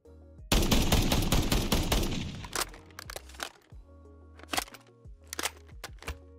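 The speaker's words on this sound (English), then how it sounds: "The Jack 12 comes with custom sounds on top of custom animations as well" Jack 12 (AA-12) automatic shotgun from a Fallout weapon mod fires a dense, loud burst of rapid blasts, then single shots and mechanical clacks of reloading and handling follow, with no talking.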